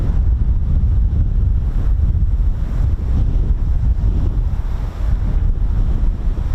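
Steady, loud wind buffeting a microphone at RAF Marham airbase, a continuous low roar with gusty rumble and no voices.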